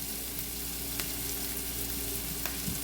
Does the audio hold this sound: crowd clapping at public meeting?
no